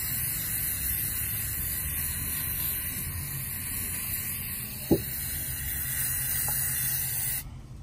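A continuous spray of brake cleaner hisses steadily for several seconds, with a single small clink partway through, then stops, during a Jeep Wrangler oil change.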